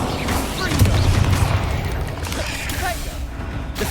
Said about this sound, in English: Incendio, we're making quick work with them.